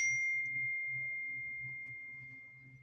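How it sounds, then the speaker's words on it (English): A single clear chime rings out at a group gathering and rings on as a sustained pure tone that slowly fades, with faint murmuring voices underneath. "Did that just chime?"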